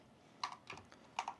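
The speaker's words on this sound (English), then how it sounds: "let me just type this out for you" A few brief computer keyboard keystrokes, close and clear, in two small clusters over a faint quiet background.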